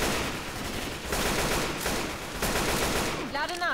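Rapid gunfire in the zombie shooter Left 4 Dead 2, dense bursts of automatic shots rattling continuously, loud and near, with game effects and a brief rising sweep at the end, no clear talk.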